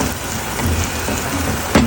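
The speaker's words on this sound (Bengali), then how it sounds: "এবার একটু ভালো করে ভাজা হোক।" Tuna fish frying in a pan makes a dense, loud, continuous hiss of spitting oil, steady throughout, with a brief louder clatter just before the end.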